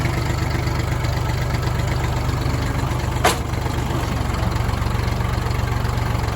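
A Kubota tractor engine idles steadily and close by, a constant low rumble throughout with one brief sharp click near the middle.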